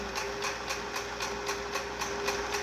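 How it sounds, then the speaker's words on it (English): Sewing machine stitching a channel close to the edge of a cloth medical face mask, a steady rapid motor whir with evenly repeating needle pulses throughout, moderately quiet and close. "So needle down close to the edge to sew a channel. And backstitch"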